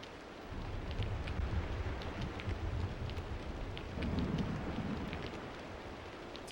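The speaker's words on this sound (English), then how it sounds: "There's a lot of thunder and rain in this game." Steady rain and low rolling thunder in the video game Aidyn Chronicles: The First Mage, a dense wash of falling drops over a deep rumble that swells twice, continuous and fairly close with no voices.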